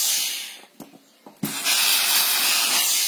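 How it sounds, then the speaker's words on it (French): A steam iron pressing a sewn fabric face mask gives short soft puffs, then a long, steady loud hiss of released steam that fills the rest of the moment, with no talking. "Et un coup de fer avec de la vapeur."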